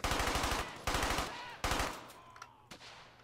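Machine gun fire in the video game Brothers in Arms: Hell's Highway comes as three loud, close bursts of rapid shots with short gaps between them, followed by a fading echo and one last single report.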